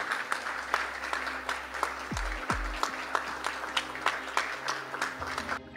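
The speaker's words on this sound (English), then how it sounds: "A round of applause, please." A legislative chamber gives sparse, scattered applause during a session. Distinct individual claps sound at a loose, uneven pace over a low background hum, with a couple of brief low thumps partway through and no speech heard.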